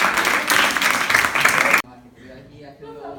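An audience at a cultural extension event claps loudly in a dense burst of applause that stops abruptly, after which a person starts talking.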